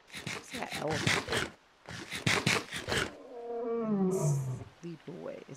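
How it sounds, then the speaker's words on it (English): A deep, drawn-out lion roar from the video game RLCraft rumbles after a stretch of rhythmic voiced sounds, then trails off into a few short growls. "It sounds like a lion."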